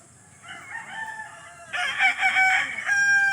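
Young two-month-old gamecock chickens, heard as close, loud crowing in two strained calls, the second louder and longer, with a faint cluck-like sound underneath.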